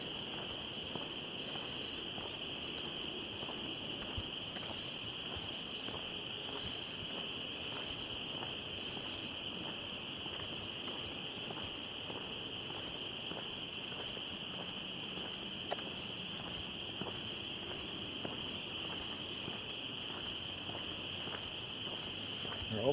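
A dense nighttime chorus of frogs and insects keeps up a constant high trill, with occasional soft rustles nearby.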